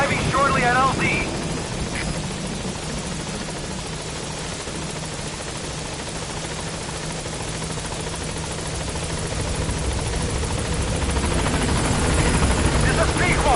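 Video game helicopter Pequod approaching a landing zone: a loud, steady rotor drone with a low thrumming hum that swells slightly toward the end, while radio-style voices speak briefly near the start.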